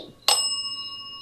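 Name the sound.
bell ringing twice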